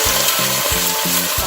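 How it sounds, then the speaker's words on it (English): Kreung paste sautéing in hot canola oil over medium-high heat, a steady close sizzle with rhythmic scraping strokes of stirring repeating about every third of a second. "I'll saute my kreung in."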